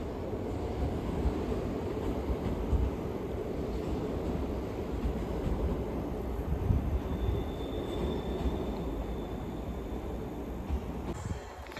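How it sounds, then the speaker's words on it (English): An LNER train rolls into Newcastle station with a low continuous rumble of wheels and carriages, a faint high squeal rising briefly near the end, distant and steady with no talk. "Next service arriving is the terminating service from LNER Zoom service from London King's Cross"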